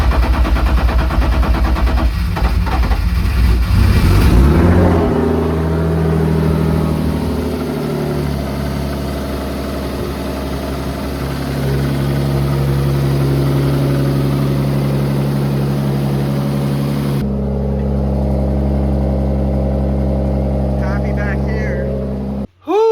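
A BMW M50 engine, just back from a cracked-head repair, cranks and catches, then settles into a steady, loud idle with a low rumble and hum, with some talk early on, before cutting off abruptly near the end.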